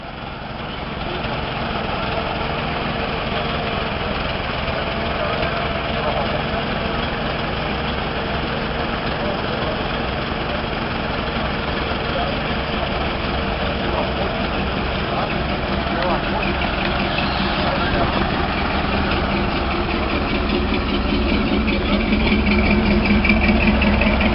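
A 1929 Mack dump truck idles steadily while its bed is raised, the engine's low, even drone running continuously and growing slightly louder toward the end.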